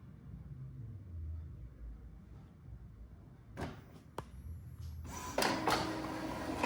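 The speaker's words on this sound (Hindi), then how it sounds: "तो जैसा कि आपने देखा प्रिंट होना शुरू हो चुका है, और ये 3 पेज प्रिंट करेगा" An Epson L3250 ink tank printer starts printing a page, with a low mechanical rumble, then clicks and a rising, steady feed-and-carriage whir that grows louder toward the end.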